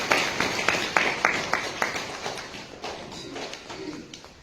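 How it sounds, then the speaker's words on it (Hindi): Applause at a Christian tribal church wedding: a run of sharp, fairly close claps at a steady rhythm fades into softer scattered clapping from the congregation. "तालियां बजाएं।"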